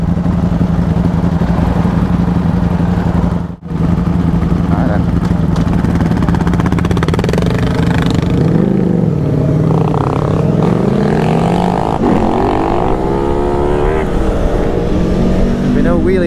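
An Aprilia Tuono V4 1100 Factory motorcycle engine drones loudly during a wheelie attempt on Isle of Skye roads, holding a steady hum before the pitch rises and falls as the engine revs, with voices speaking over it.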